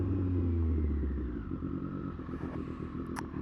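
A Triumph Street Triple 765 RS motorcycle engine drones steadily close by during a ride, loud at first and then easing slightly, with a brief rattle near the end.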